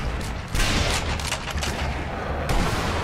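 Sniper rifle fire in Sniper Elite Nazi Zombie Army: a couple of heavy, loud shots with booming tails, set against a dense, noisy battle backdrop with no clear talk.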